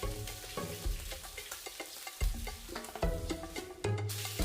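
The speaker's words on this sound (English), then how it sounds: "When frying the head and tail, the oil temperature needs to be a bit higher." Fish head and tail frying in hot oil sizzle and crackle steadily, close up, with occasional stirring clatters breaking the continuous frying hiss.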